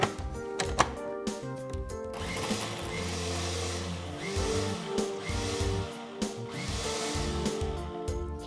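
Food processor pulsing tarama, a fresh onion and lemon juice for Greek taramosalata, a steady close motor whir running for several seconds with short surges.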